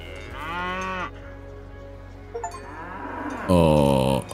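A cow in Dungeons of Hinterberg moos loudly and close, two long drawn-out lowing calls separated by a pause, the second louder and more strained, with a soft clink between them.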